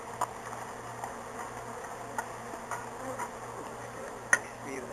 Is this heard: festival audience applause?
no